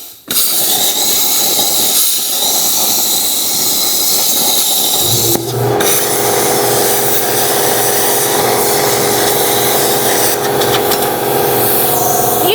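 A plasma cutter slices through painted metal in a shop with a steady, loud, harsh hiss and roar that runs almost without a break and shifts tone slightly partway through. No one talks over it.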